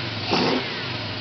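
A supercharged engine is revved briefly, with a close, loud rumble that swells for a moment and then settles back to a steady run, an airy blower whine riding on top.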